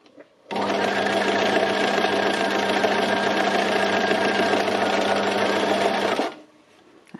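A sewing machine runs at a steady fast pace for about six seconds, doing free-motion stitching on a mountain design with the stitch length set to zero. It starts and stops abruptly, loud and close, with no talk.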